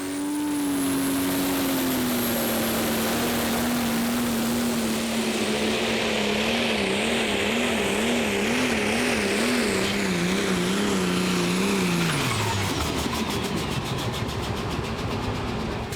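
A pulling tractor in a Prostock class with an 8.3 litre Ford engine roars loudly and continuously at an outdoor tractor pulling event. Its pitch wavers as it works down the track, then drops away near the end as the run finishes.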